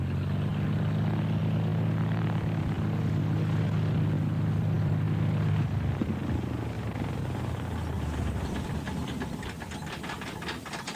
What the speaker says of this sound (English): David Weston lands his aircraft among a herd of wildebeest to make one of the tests